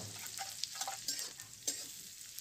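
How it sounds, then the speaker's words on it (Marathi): Sliced onion frying in a hot kadai of oil with mustard seeds and curry leaves, a steady soft sizzle with a few light stirring taps, fairly quiet throughout. "तो कांदा तर चांगला परतून घ्यायचा"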